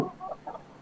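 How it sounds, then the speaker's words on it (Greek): A light-colored hen in a coop gives a few short clucks close by, a quick clipped call followed by two softer ones. "Νάτι, παιδιά, νάτι, η κουτούλα που γέννησε το αυγό"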